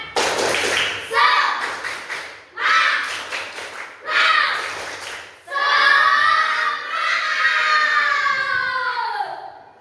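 A school class in Indonesia performs a rhythmic spirit clap, with bursts of sharp claps in patterned groups alternating with children chanting loudly in unison, repeated several times and ending in a long sustained chant.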